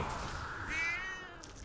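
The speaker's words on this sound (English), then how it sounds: "My cat has decided to join." Pet cat meowing once indoors, a single drawn-out meow with a rising then falling pitch, faint and close, with no talking.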